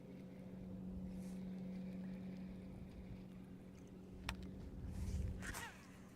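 The engine of a fishing boat on Clark's Hill Lake runs as a steady low hum with a faint whine, quiet and constant, broken by a brief sharp click and some rustling near the end.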